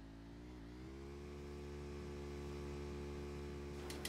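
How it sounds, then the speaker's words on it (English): Steady motorcycle engine idle in the Final Fantasy VII The First Soldier battle royale game, a low continuous drone with a slight pitch dip early on and a brief bright burst near the end. "Motorcycle's loud as fuck."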